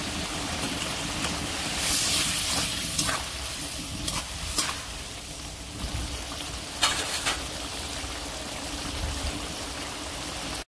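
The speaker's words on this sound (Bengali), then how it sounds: "মশলার ঝাল ফুটে গেছে, এবার কুচেগুলো দিয়ে দিচ্ছি।" Eel pieces drop into boiling spice paste for an eel curry, setting off a steady, fairly loud sizzle and bubbling hiss that swells with a few sharp crackles throughout.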